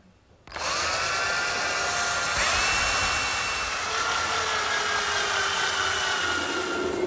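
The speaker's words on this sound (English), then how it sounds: "I'm just going to pre-drill some holes for the screws." A power drill pre-drilling pilot holes for screws runs steadily at close range, a continuous high whine that holds for several seconds with a slight pitch shift midway.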